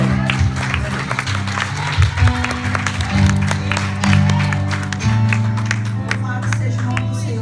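Applause from a church congregation during a Sunday service, clapping layered over sustained organ or keyboard chords, with voices mixed in throughout.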